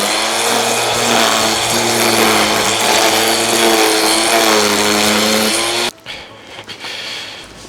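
A Bosch UniversalGrassCut 18-26 cordless grass trimmer whirs loudly and steadily at close range with a high, constant motor pitch, then cuts off abruptly, leaving quieter handling noises.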